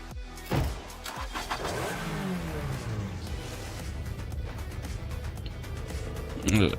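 A car engine revs in Rocket League, a steady mid-pitched motor drone with rising and falling pitch sweeps, punctuated by a few sharp thumps at the start and end.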